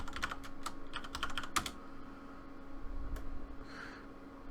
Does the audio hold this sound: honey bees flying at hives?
no